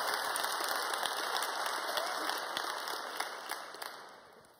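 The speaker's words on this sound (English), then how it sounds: "give him a round of applause." Applause for a speaker at a tech conference on the face of tech, a dense, steady clatter of many hands that fades slightly toward the end.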